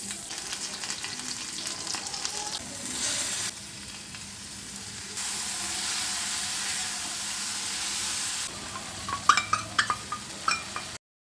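Vegetable stems and potatoes frying in a pan give a steady close sizzle with hiss, and toward the end sharper spattering pops and bursts of stirring stand out.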